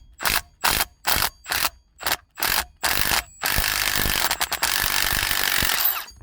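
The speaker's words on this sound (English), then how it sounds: "Impact. Let's hope that this can loosen it." An impact wrench loosening a bolt during manual transmission repair on a 1992 Ford Ranger. About eight short, loud hammering bursts come first, then a long continuous rattling run, very close and with no talk.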